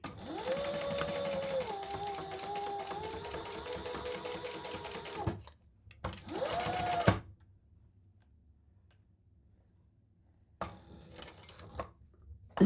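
Sewing machine top stitching around a zip-around travel wallet made of thick materials, running steadily for about five seconds, stopping, a short second burst, then quiet with faint handling noises near the end.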